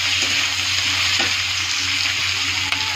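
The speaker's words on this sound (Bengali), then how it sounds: "একটু ভাজা ভাজা করবো।" Potato and bitter gourd frying in oil in a pan give a loud, constant sizzle close by, with faint stirring sounds beneath the hiss.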